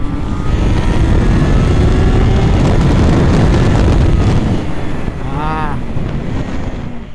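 A naked sport motorcycle pulls hard down a racetrack, its engine note buried under heavy, roaring wind buffeting the microphone, with a brief rising whine near the end.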